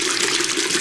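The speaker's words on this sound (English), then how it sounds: "What I do is I run some hot water" Hot water runs from a tap in a steady, continuous gush, close and fairly loud, with no voices.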